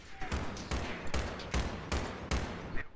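Repeated gunfire in the Battlefield 3 multiplayer match on the Tehran map, a string of heavy bursts roughly every half second, loud and close, with faint voices underneath.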